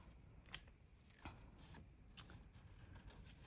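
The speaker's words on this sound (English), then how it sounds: "I'm cutting out sun rays." Scissors cutting paper sun rays for a journal page, a few faint, soft snips spaced apart against a quiet background.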